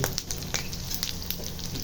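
Sliced pork belly (liempo) fries in a pan with the flame just turned off, a steady crackling sizzle broken by sharp scattered pops of spattering fat, close and fairly loud.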